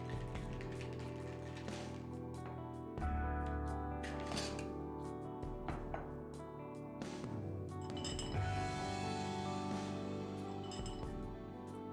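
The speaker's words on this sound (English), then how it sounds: "We're going to add ice and shake." Ice shaken hard in a cocktail shaker while mixing a Galveston Hurricane with simple syrup and lime juice, a steady clinking rattle that keeps going for the whole stretch with no talking.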